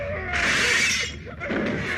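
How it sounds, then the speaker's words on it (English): An exaggerated, cartoonish punch effect from a horror-comedy series hits unnaturally loud, a bright crashing smash with a shattering edge that fills the first second, then a second softer impact follows. "Same with these punch effects."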